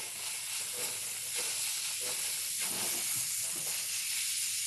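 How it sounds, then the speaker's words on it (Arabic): Chopped onions fry in hot oil in a pan as the first step of Bukhari rice, giving a steady, quiet sizzling hiss that runs unbroken throughout with no voices. "حطينا شوية زيت، راح نقلي فياته البصل"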